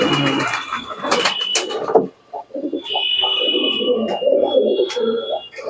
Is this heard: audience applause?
no